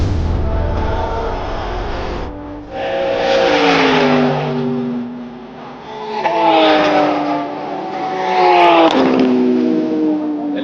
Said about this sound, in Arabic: اليوم نكلمكم في قلب موتور سيتي من دبي أوتودروم في سباق ال 24 ساعة